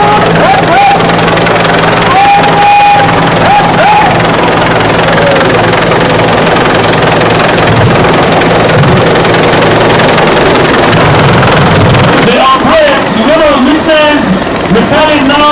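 Nigerian police helicopter in Abuja, a loud steady rotor and engine roar running throughout, shifting toward the end, with someone speaking over a public address.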